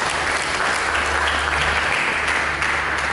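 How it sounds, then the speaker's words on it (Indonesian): A church congregation applauds together, a dense, even wash of clapping that holds steady and loud throughout with no talk over it. "Berikan tepuk tangan bagi Yesus."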